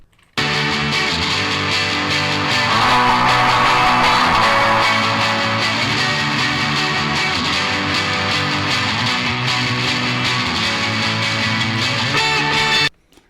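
A thick, distorted electric guitar plays sustained chords steadily for several seconds, loud and gritty, then stops abruptly.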